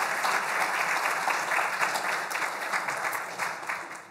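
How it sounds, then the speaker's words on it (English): A room full of attendees at the JOED 2019 annual meeting applauds honored members, a brisk, even wash of clapping that holds steady and tapers slightly at the end. "Give these guys a round of applause."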